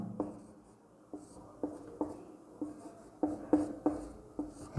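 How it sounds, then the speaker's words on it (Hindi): Chalk or a marker writes a Sanskrit grammar example on a board in a classroom lesson, a steady series of short scratchy strokes and taps, fairly close and moderately quiet, with no speech. "जैसे उदाहरण हम लिखते हैं, यहाँ पर लिखिए, रामः"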